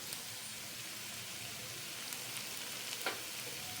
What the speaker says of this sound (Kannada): ನೆಕ್ಸ್ಟ್ ಇವಾಗ ನಾನು ಧನಿಯಾ ಪುಡಿ ಇದ್ದೀನಿ ಹಾಕೊಂಡು ಮಿಕ್ಸ್ ಮಾಡಿಕೊಡು